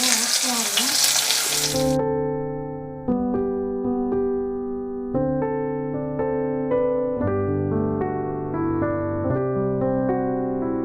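Chopped onions and cumin seeds hit hot oil left from frying fish, giving a loud, hissing sizzle for about two seconds before calm tonal music takes over.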